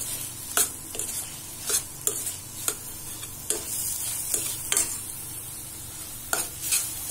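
Paneer bhurji sautéing in a pan: a steady low sizzle, broken about once a second by sharp scraping and clinking strokes of a spatula against the metal as it stirs, close and fairly quiet, with no voices.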